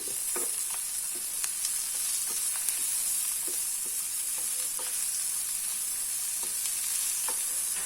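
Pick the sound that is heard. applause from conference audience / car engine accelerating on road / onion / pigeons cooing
onion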